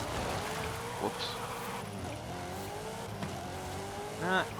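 A car engine during a drift in the Forza Horizon racing game set on the streets of Mexico, a buzzing, wavering engine note that rises and falls with brief revving bursts, closing on a louder climb.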